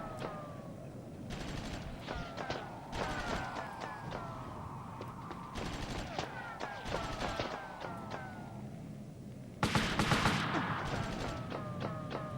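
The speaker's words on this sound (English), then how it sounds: "Where are they shooting us from?" Gunfire in the PlayStation game Army Men: Land, Sea, Air, a steady run of short, mid-distance shots and bursts crackling over a busy battlefield ambience, with a louder flurry near the end.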